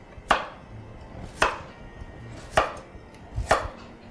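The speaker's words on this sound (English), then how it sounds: "When I'm chopping up my vegetables for roasting with the chicken" Vegetables such as carrots and potatoes being roughly chopped on a cutting board for roasting with chicken: four sharp, loud knife strikes spaced about a second apart, close and with no talking.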